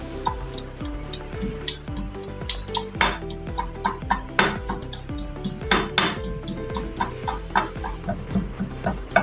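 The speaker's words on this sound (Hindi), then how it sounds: "सबसे पहले मिर्च को पीसेंगे" Chillies being ground for a Lahori chargha chicken marinade, a steady run of close, sharp clinks and knocks repeating in quick rhythm, like a pestle striking and scraping a mortar, with no talk.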